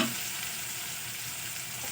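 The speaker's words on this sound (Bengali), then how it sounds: "টমেটো আর পেঁয়াজ আমি একটু নাড়াচাড়া করে নিয়েছি।" Tomato and onion fry in a pan for Bengali baingan bharta, giving a steady, even sizzling hiss with no talking.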